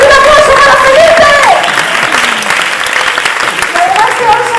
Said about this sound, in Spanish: ¡Un aplauso para Sandra! ¡Un aplauso para Felipe!